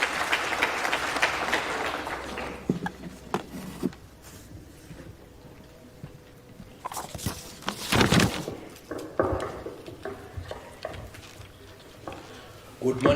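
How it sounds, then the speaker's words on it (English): Audience clapping at a business conference as a guest walks to the podium, scattered and uneven bursts rising and falling with rustling and movement noise, loudest in the middle. "Please give him a clap as he comes to the podium."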